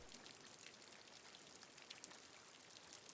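Steady rain falls in a quiet, even hiss with scattered close drops tapping on a surface, continuous throughout with no voices.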